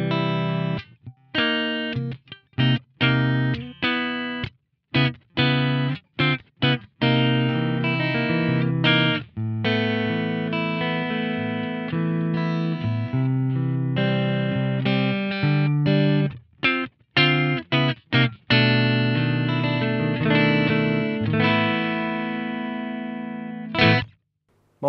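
A Strandberg Boden Essential electric guitar is played through its humbucker pickup in the last position. The playing is clean and resonant, with rich sustained chords and single notes broken by short pauses, and there is no speech.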